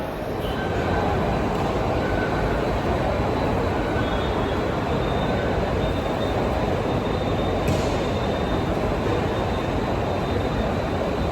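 A train rumbles loudly and continuously at a Chennai railway station, its wheels roaring in a dense, steady wash with faint squealing tones on top.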